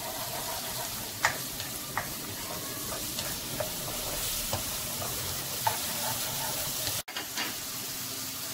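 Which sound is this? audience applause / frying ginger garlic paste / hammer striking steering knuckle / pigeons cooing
frying ginger garlic paste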